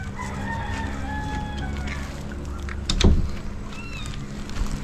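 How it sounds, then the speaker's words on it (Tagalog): A lone backyard rooster crows once, loud and close, its call rising and falling over a steady low background hum, with faint chirping birds around it and no one speaking. "Yung aming nag-iisang manok, oh."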